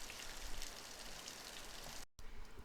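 Rain falling outside an open window, with raindrops blowing in: a steady, dense hiss of drops that cuts out briefly near the end, with no voices.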